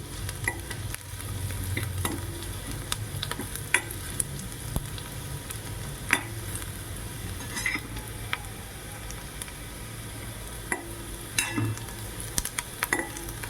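Onion and masala sautéing in a pan over a medium flame, a steady sizzle punctuated by repeated sharp scrapes and taps of a spatula stirring, close up with no speech.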